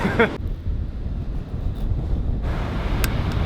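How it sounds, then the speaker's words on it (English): Steady, rumbling coastal wind at Point Reyes, California, buffets the microphone throughout, with a brief voice at the start and gusts that swell louder toward the end. "It's also so windy."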